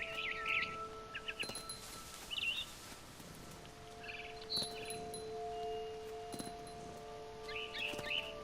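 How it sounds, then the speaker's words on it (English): Bright barn swallow chirps from the video game What Remains of Edith Finch come in short bursts over a quiet background, a few tweets scattered through with soft rustling between them. "Then I heard chirping outside my window. It was a barn swallow going back to her nest."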